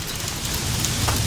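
Hail pelting down hard in a violent storm, torn leaves and branches among cypress trees, a steady dense hiss of impacts with low rumble underneath, continuous and fairly loud throughout.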